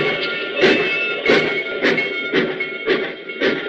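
Train at a station, a loud rhythmic chuffing that repeats about every half second with hissy bursts, heard close with no voices.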